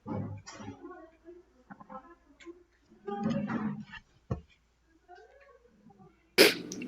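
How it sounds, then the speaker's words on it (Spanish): A single sharp sneeze bursts out near the end, close and loud, after a stretch of quiet speech and small mouth noises in an online class session. "quiero estornudar, permítame"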